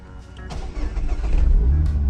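A car with a manual stick-shift transmission cranks and catches, the engine rising into a loud, steady idle close by.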